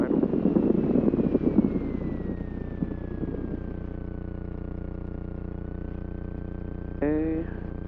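A light general-aviation aircraft engine idles steadily before takeoff, a constant low drone throughout, with radio-like voice talk early on and a brief tonal burst near the end.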